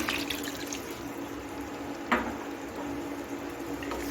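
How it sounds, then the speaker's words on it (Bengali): A bowl of water poured over cooked, browned chicken in a pan gives a soft continuous splashing wash with a brief sharper splash midway, close and fairly quiet. "এখন আমি জল দিয়ে দিচ্ছি এক বাটি"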